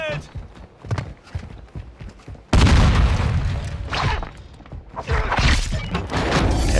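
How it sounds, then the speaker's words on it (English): A grenade blast in the Warzone 2.0 battle royale lands with a sudden loud boom, followed by heavy crashing rumble and continued gunfire-like impacts, with people talking over voice chat before and around it. "Throwing grenade."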